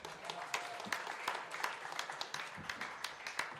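An audience at a venture capital panel claps for the moderator, a fairly sparse scattering of distinct hand claps with uneven rhythm, moderately faint and picked up from a distance.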